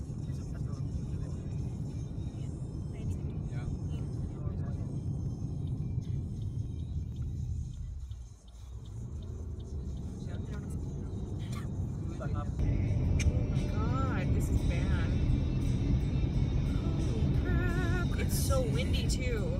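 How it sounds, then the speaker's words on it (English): Inside a car driving through a windy Alberta snowstorm, a steady low engine and road rumble fills the cabin and grows louder toward the end, with voices talking faintly over it. "Like I can feel it on the car. It's very windy."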